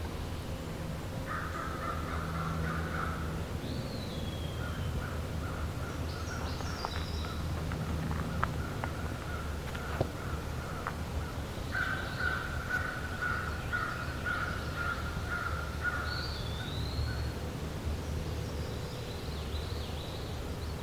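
An American crow caws a few times at a distance in a swamp, faint over steady insect and background hiss, with other birds calling softly now and then.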